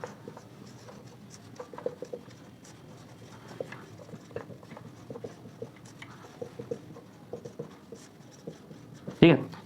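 Pen or pencil scratching across paper while writing out a percentage maths question for a competitive exam lesson, a steady stream of soft scribbles and taps that stays faint throughout, with a short louder bump at the very end.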